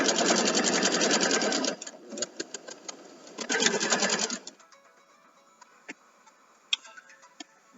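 A sewing machine stitches a row of a quilt in fast, steady bursts, running loud and close for about four seconds with a short pause, then giving way to quieter clicks and handling noises.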